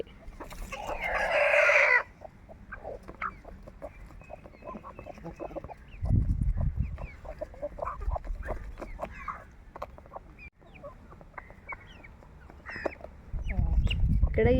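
Chickens kept during the early monsoon rains and fed fresh grass: a loud squawk opens, then a run of close clucks and rustling, with low bursts of activity near the middle and end.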